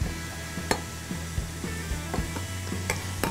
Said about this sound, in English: Whoa, look at that fizz!